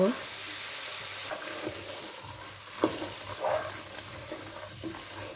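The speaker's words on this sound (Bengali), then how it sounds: "মশলা কষানো হয়ে গেলে এখন আমি সিমের বিচি দিয়ে দিব।" Bean seeds go into frying spice masala for a shrimp bhuna and sizzle softly, with a few scraping stirs and small knocks over a quiet, continuous fry.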